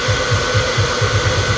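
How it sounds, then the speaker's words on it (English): A hairdryer run at full power to heat new tank graphics on an Indian Scout Bobber motorcycle gives a steady, loud close whoosh with a low pulsing rumble, alone without talk. "Hairdryer, you can pretty much use it on full welly if you want to."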